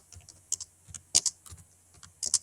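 Computer keyboard keys are typed in irregular bursts of close, crisp clicks and clatters, recorded nearby while entering text in a word processor.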